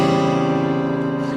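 Out-of-tune guitar strings ring together in a sustained, dense chord that sounds sour and wavering, holding steady at moderate loudness for just over a second with no voices.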